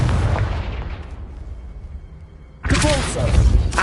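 A Confringo fire-blast spell explodes in Hogwarts Legacy, a loud booming burst opening the clip and rumbling down, followed by another bright, heavy blast near the end.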